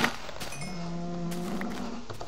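A single drawn-out moo from a cow in the video game Minecraft sounds close and clear, over a faint steady background of game noise, with no talking.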